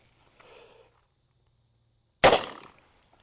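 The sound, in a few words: 44 lever gun with 20-inch barrel firing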